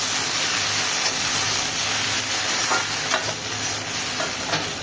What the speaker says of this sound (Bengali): এটাও প্রায় 4-5 মিনিট মতো এটাকে ভেজে নিতে হবে।